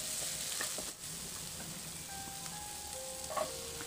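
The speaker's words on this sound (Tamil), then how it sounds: "இந்த வெங்காயம் பச்சை மிளகாய் இதெல்லாம் நல்லா வதக்கி விடுங்க" Small onions and green chillies sauté with salt in a hot pan for a coconut milk pulao, giving a steady close sizzle with light stirring scrapes and no voice.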